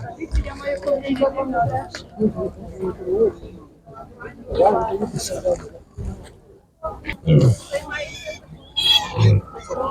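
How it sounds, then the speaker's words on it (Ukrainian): Piglets grunt and squeal in short bursts, close by, at an animal market in Nadvirna, Ukraine, while people talk over and between the animal noises. "Великий великий вибір поросят."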